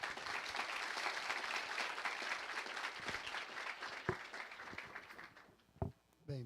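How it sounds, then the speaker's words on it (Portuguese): An audience at a social security seminar applauds a speaker. Dense clapping holds steady for about five seconds and then fades out, with a few last claps near the end. "Vamos dar um aplauso para ele."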